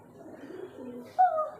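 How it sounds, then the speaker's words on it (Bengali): Pigeons inside a pigeon shed give a low, soft murmur, then a single clearer, louder coo near the end. "এখন কবুতর শেডের মধ্যে ঢুকেছে, কিছু কবুতরকে খাবার দিয়েছে।"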